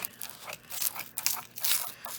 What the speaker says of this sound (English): getting my scissors out to dig through this book